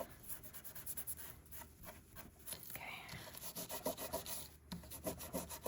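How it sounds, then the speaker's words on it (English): Glitter glue being rubbed by hand into a paper bird on a junk journal page, a soft, close scratchy rubbing in short uneven strokes, with a brief word spoken partway through. "I want to rub that in a little bit"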